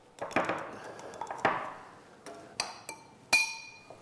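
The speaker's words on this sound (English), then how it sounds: "just stir it to dissolve it" A spoon stirs salt into a liquid solution in a glass while plant DNA is being isolated, giving a few sharp clinks and taps against the glass, spaced irregularly, close up and fairly quiet, with no speech.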